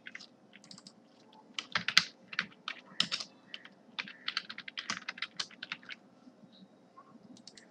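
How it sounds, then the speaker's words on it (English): Close, quiet typing on a computer keyboard, bursts of rapid irregular key clicks with brief pauses between words, no voices. "so let me type in semi outdoor"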